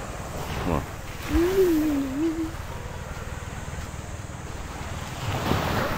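Sea waves wash ashore at a beach in Bolinao, Pangasinan, with rough water and a steady broad rush of surf and wind buffeting the microphone, and a brief whistle-like tone partway through.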